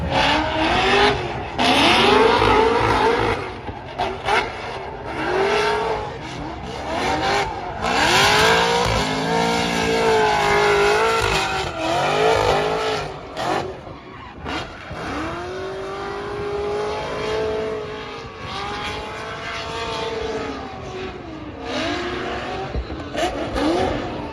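Race car at full speed on a qualifying lap, driven despite a broken rear subframe; loud continuous engine with repeated rising and falling revs through gear changes and corners, occasional tire squeal, close and steady throughout.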